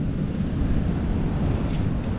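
Big ocean waves at a beach where someone is hunting for gold and copper, a steady loud wash of surf with heavy wind rumble on the microphone, continuous with no clear breaks.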